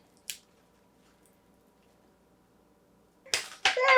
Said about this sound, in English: So I'm going to grab my wire cutters.